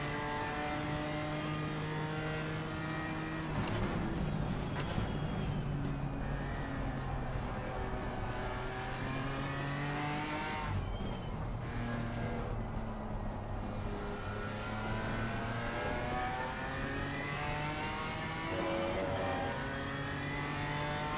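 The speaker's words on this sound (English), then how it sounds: "The faster car is approaching." Race cars in a sim racing game, a British GT round, roar along with engines revving and shifting through gears, pitch climbing and dropping as other cars close in and pass, loud and continuous.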